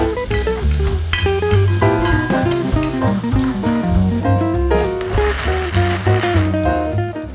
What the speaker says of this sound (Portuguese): Vou mexendo aqui.